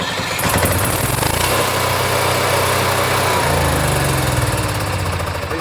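A small camper generator engine runs loud and close with a steady buzzing drone, its pitch shifting slightly partway through as it settles.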